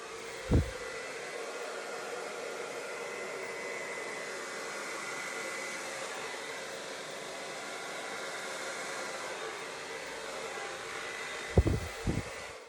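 A hair dryer set on low blows steadily over poured paint, a continuous even whoosh of airflow, close and moderate, with brief knocks near the start and end.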